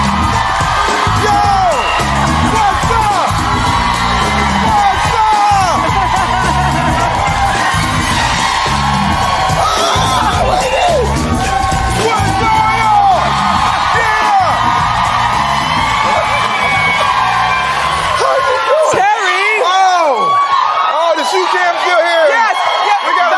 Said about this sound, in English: Please clap it up for the always entertaining Terry Crews.